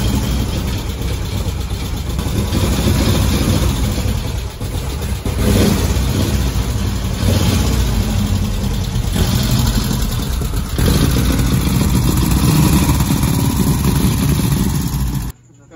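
Car engine revved repeatedly while struggling with a carburetion problem, loud and continuous with surging throttle blips, with people talking over it.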